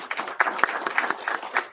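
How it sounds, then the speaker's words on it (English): A small audience at a city council meeting claps for an absent honoree, a brief patter of scattered hands with uneven, separate claps over a short stretch. "Okay, we'll still give her an applause."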